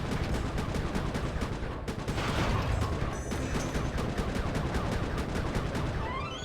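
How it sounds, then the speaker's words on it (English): Rapid repeated weapon fire in the video game Sly 3: Honor Among Thieves, with dense, steady bursts of tapped shots running continuously at full loudness over a busy game soundscape. "I'm just tapping the fire button just so I don't, you know, overheat"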